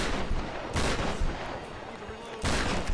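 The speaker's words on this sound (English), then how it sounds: "I'm getting shot at." Bursts of gunfire in Tomb Raider 2013 multiplayer, several loud close shots and volleys in quick succession amid busy combat noise.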